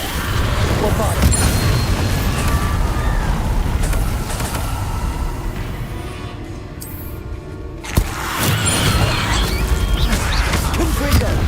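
A Bombarda explosion spell goes off in a Harry Potter video game, a dense blast with a sharp crack near the end, set within ongoing game noise and mechanical clatter.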